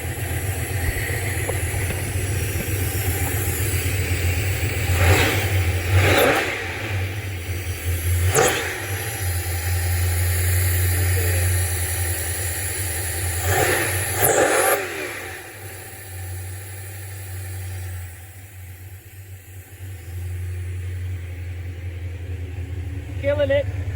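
A car engine, freshly back running after two months and a cold start, idles with a low steady rumble and swells into two revving bursts, while a person talks over it.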